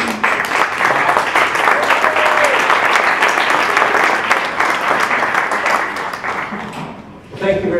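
An audience breaks into sustained, loud applause to welcome speaker Ron Schimmelpfenning at an Acuity Brands evening event, steady clapping from many hands that tapers off near the end.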